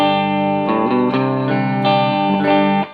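Electric guitar on the middle pickup with a little overdrive, strummed chords and picked notes ringing steadily for a few seconds with no voices, fading at the very end.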